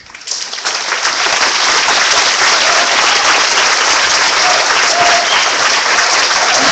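Crowd applause at an outdoor residents' rally against an anti-immigrant prison in Joliet, Illinois, loud and sustained, building quickly after a soft start and holding at full strength throughout.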